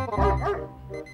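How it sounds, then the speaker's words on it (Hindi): A dog barks in a video game, one loud close bark burst with a short whimpering tail, over a steady background hum. "ये कुत्ता भौंक रहा है।"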